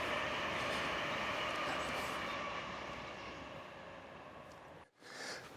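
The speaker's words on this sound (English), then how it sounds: "So it's a very busy railway line." A train rumbles past on a busy main line into London beside fenland, a steady broad roar that fades gradually, then a brief dip and a sharp click at the end.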